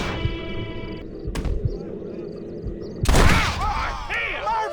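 A gunshot in Red Dead Redemption: one sharp, loud bang mid-scene, with shouting and game ambience around it.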